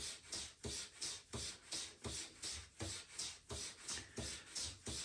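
A straight razor is honed on a stone in a long run of steady back-and-forth strokes, each a close, even rasping scrape repeating at a regular rhythm with no talk.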